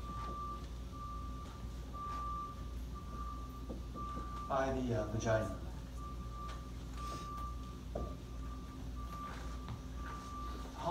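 A truck's reversing beeper sounds outside a lecture hall, a faint, steady string of repeated beeps running beneath a lecturer's continuous talking.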